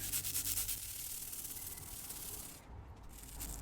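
Close scrubbing and rubbing on the grooves of a golf club head to loosen dirt, scaling and rust, a dense abrasive rasp with a brief pause before the scrubbing resumes, no talking.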